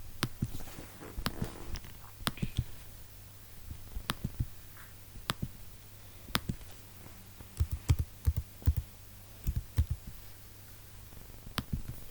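Light tapping on a computer keyboard, irregular bursts of soft keystrokes close by over a low steady hum, with no talking.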